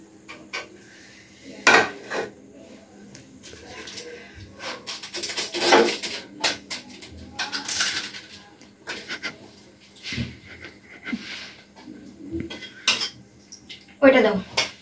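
Plates, pots and metal cutlery clatter and clink as cooked spicy noodles are served onto plates in a home kitchen, with irregular sharp knocks and scrapes close by while people talk quietly now and then.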